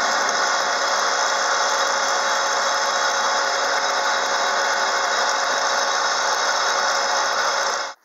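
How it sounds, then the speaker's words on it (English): A steady, loud whirring drone fills the space while a wooden pen is sanded on a spinning lathe with a dust collector running, unbroken until it cuts off abruptly at the end. "I'm just going to go ahead and start sanding"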